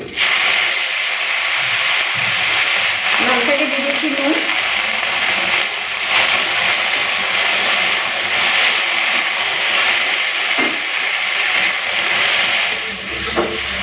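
Red amaranth greens fry in hot mustard oil, a steady loud hiss and sizzle that runs unbroken throughout, with a brief clatter partway through.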